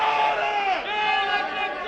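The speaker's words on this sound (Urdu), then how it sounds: "عوامی سماعت میں کے الیکٹرک انتظامیہ کے خلاف شدید نعرے بازی ہوئی" A crowd chants loud protest slogans against K-Electric at a public hearing, with many voices merging into a sustained, roaring shout that stays steady throughout.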